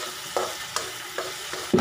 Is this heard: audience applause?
no